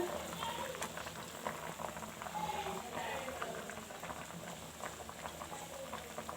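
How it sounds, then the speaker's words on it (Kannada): Okra gravy simmers and boils in a pot on the stove, giving steady soft bubbling and popping close by with no voices. "ಈಗ ಗ್ರೇವಿ ಕೂಡ ರೆಡಿ ಆಗ್ತಾ ಇದೆ. ಸೊ ಇನ್ನೇನು ಒಂದು 2 ನಿಮಿಷ ಕುದಿದ್ರೆ ಆಯಿತು."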